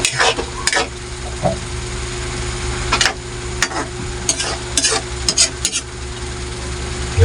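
Fried milkfish (bangus) simmering and sizzling in a pan, a steady close bubbling hiss punctuated by sharp clicks and scrapes of a utensil stirring throughout.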